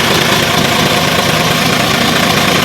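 A Fuso 6D40 diesel engine with a faulty engine stop runs at a steady, loud idle, a constant close rumble with no breaks and no voices.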